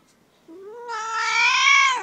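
A single drawn-out meow from a young kitten, high and rising, clear and close in an otherwise quiet space.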